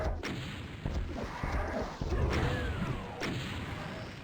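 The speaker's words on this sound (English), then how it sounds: "I just like using my rockets." Rockets fired in a DOOM level, with repeated launch thumps and booming explosions every second or so, with whooshing projectiles and game-action clatter throughout.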